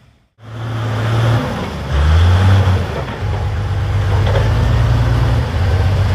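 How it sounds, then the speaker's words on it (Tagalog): Heavy vehicle traffic, with a bus passing on the elevated road above a damaged, eroded roadway under repair in Lupi, Camarines Sur, making a steady loud engine rumble that swells and holds throughout, with low droning tones shifting as vehicles move. "Mapapansin nyo, ayan, may dumaraan doon sa taas na bus."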